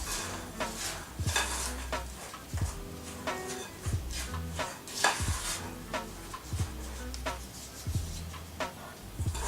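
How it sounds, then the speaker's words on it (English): Rough bread dough being stirred in a bowl for lunetta bread, giving a steady series of soft, regular scraping knocks close by with no talking. "stir it around, making very rough looking dough"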